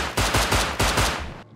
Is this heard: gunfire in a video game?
yes